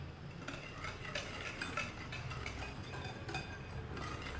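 Lemon cake batter being stirred in a bowl while flour is added gradually: a steady, soft scraping and clinking of a utensil against the bowl, with repeated light strokes, close and fairly quiet, no talking.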